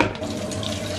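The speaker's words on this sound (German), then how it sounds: "Reis waschen." Water from a kitchen tap pours steadily while rice is washed, a brief, close, continuous splashing stream with no talk.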